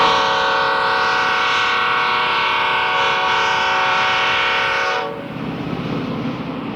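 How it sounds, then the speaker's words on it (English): A loud, sustained multi-tone P5A air horn on an Amtrak Phase 1 F40 locomotive blares for about five seconds, then cuts off, leaving the rumble of a passing train. "as a Phase 1 F40, it had a P5A air horn"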